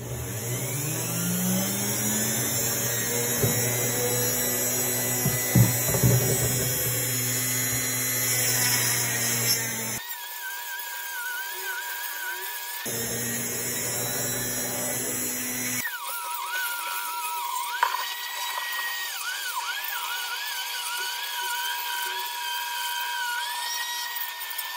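A rotary tool with a drill bit grinds material from a magazine, a loud high-pitched whine that drops and rises as it bites, with short pauses and shifts in pitch, close and with no talk.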